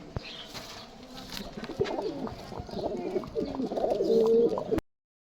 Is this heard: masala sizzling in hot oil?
no